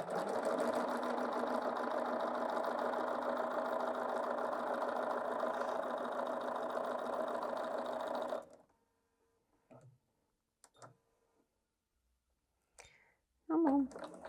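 A Bernina 770 QE Plus sewing machine stitches fabric in a steady, loud mechanical whir for about eight seconds, then stops, leaving a few faint clicks and handling noises.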